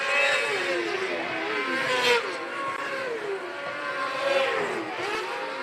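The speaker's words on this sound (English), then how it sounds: "If he can get square that car up on the exit of corner number 4, he might have a bid to the inside of Comer going into 1" Race cars lapping an oval track during a race, several engines revving and whining with rising and falling pitch as they pass, loud and continuous with no voices.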